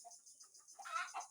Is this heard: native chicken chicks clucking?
yes